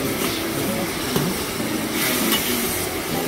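Goat fried rice stirred in oil over high heat, a steady dense sizzle with scraping stir strokes running throughout, close and fairly loud with no talk.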